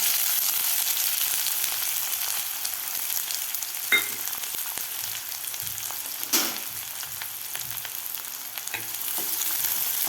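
Chopped onion sautés in hot oil with spluttering mustard seeds and cumin for a potato rassa, giving a continuous close sizzle with a couple of sharp stirring knocks and no talking.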